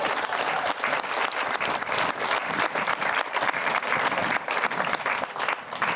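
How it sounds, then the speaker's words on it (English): A crowd at a polocrosse tournament awards ceremony gives Adventure Unlimited sustained applause, dense and even throughout. "big round of applause for Adventure Unlimited"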